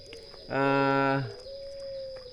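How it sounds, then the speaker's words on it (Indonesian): A white turtle dove gives one close, clear coo lasting under a second, then a faint thin tone carries on in the background. "perawatan dan mitos burung puter putih yang kita kenal"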